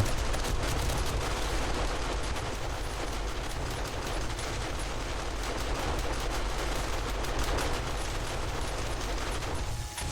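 Automated gun turrets in 7 Days to Die fire nonstop, a loud, dense machine-gun rattle that runs for the whole stretch without pause or speech.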